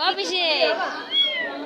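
A pet cat meows twice in quick succession, close and clear, while someone talks over it.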